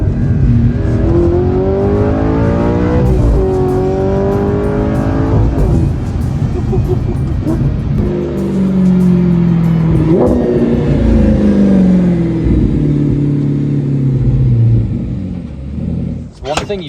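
A sports car engine revving hard through several quick upshifts, each rising whine cut by a brief pause at the shift, loud and close, with a voice talking over parts of it.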